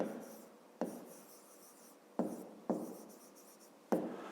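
Pen strokes scratch across paper during a fifth-grade maths exercise, several short bursts of writing separated by brief pauses, close and quiet with no talking.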